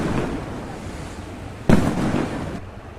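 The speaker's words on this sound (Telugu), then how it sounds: "అది వస్తుండగా ఇలా బాంబులు అయితే వేశారండి, భలే కలర్ఫుల్గా ఉన్నాయి." Firecrackers bursting at a village festival as a procession arrives, one sharp, loud bang rising out of a rumbling outdoor background, followed by a brief crackling tail.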